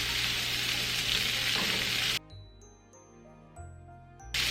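Shrimp sizzle loudly in a pan as tongs flip them for about two seconds, then the sound cuts abruptly to near quiet with faint light clinks before the sizzle briefly returns.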